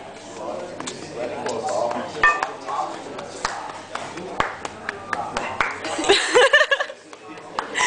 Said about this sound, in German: wir sind am Klatschen.